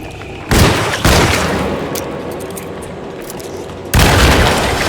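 Shotgun blasts in the video game Alone in the Dark, three heavy booming shots spaced apart, each loud and close with a decaying rumble over a steady game background, no speech.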